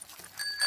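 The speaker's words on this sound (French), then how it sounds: "Et ici la sonnette." A bicycle bell rings in a Peppa Pig cartoon, a few faint, bright metallic dings, the clearest toward the end, over soft background sound.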